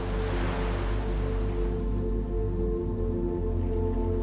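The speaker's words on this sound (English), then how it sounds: "the sound of waves rolling can be heard" Ocean waves roll in with a soft, continuous wash of surf, a gentle swell fading into a low, steady rumble.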